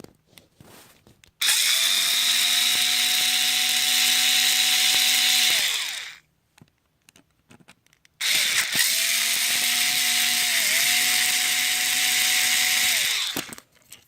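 Powered Phillips screwdriver backing screws out of a Savage 4.6 RC nitro engine: two sustained, steady whirring bursts of several seconds each, close and loud, separated by a short pause with light handling clicks.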